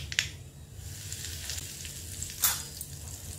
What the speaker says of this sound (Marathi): मोहरी छान तडतडली की मग त्याच्यात अर्धा चमचा हिंग घालायचं